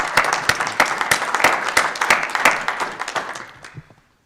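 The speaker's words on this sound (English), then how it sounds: "if we could just give them a round of applause" A round of applause breaks out at a flood diversion authority meeting, many hands clapping in a lively burst that thins out and fades to silence after about four seconds.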